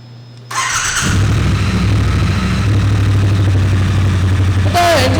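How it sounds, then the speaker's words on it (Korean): A 2022 Triumph Bonneville T120 motorcycle with its stock muffler starts up and settles into a steady, fairly quiet exhaust rumble that stays loud and close throughout. A brief higher tone sounds near the end. "이 차량 순정 머플러의 배기 사운드 한번 들어보고요"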